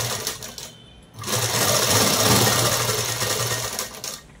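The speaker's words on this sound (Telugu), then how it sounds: "బాడీ పార్ట్ను తీసుకొని ఒకవైపు అనేది కుట్టు అనేది వేసేసుకోండి" A sewing machine runs steadily for a few seconds after a short start-and-stop burst, stitching a seam along the edge of a dress cut from a saree, loud and close with no talk.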